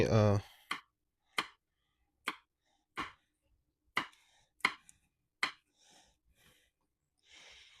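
A knife chops homegrown garden chili peppers on a board, making about eight sharp, separate cuts at an irregular, unhurried pace, with faint breathing and soft handling sounds between them.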